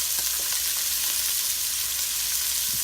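Onions frying in a pan give a steady, bright sizzle throughout, with faint scrapes and taps of a utensil stirring them in, close and without talk.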